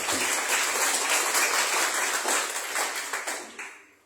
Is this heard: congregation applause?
yes